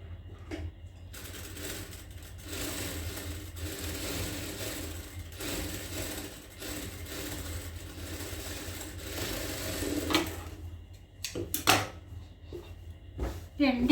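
A sewing machine stitches a travel bag in uneven mechanical runs, with pauses and a few sharper clacks toward the end, under occasional talking.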